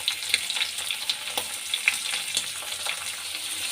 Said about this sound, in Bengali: আলুটা যখন দেখবেন একটু ভাজা ভাজা হয়ে গেছে তখনই চিংড়ি মাছগুলো দিয়ে একটু ভেজে নেবেন